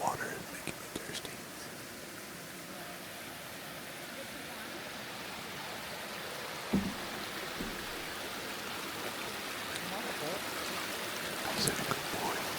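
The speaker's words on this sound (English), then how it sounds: "It's a neat little waterfall." A small waterfall feeding Lodge Lake gives a steady, soft rushing wash with a few faint knocks, heard at a distance under quiet whispered talk.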